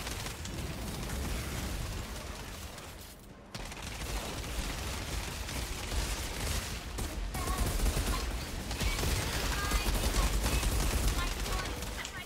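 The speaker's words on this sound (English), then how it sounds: "that's why I'm shooting while moving" Sustained gunfire from the video game Outriders, a dense rattling fusillade with bursts and explosions filling the mix almost continuously, briefly dropping out once before resuming, under a player's voice talking.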